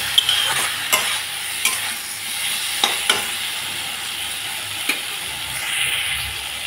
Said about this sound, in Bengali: ভাজা ভাজা করে নিলাম সামান্য জল দিয়ে